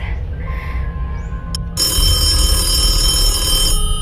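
A telephone rings during a student stage performance of the radio play "Sorry, Wrong Number", a bright, buzzing electronic ring that starts abruptly and holds loud and steady for about two seconds before cutting off, with no talking over it.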